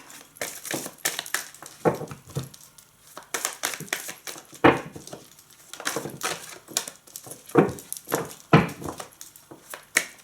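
Tarot cards shuffled by hand for a reading, giving irregular bursts of soft riffling and slapping close by, with pauses between them and no talking.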